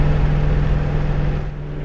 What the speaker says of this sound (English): Heard my engine there for a second.